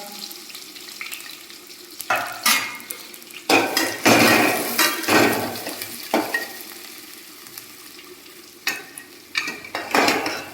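Onion and green chili fry in a pan for a Kadaknath chicken curry, with sharp sizzling bursts as a spatula stirs and scrapes the metal pan in repeated rough strokes. No voices are heard.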